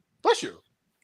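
A person lets out a single quick, voiced sneeze, close and short, followed by silence.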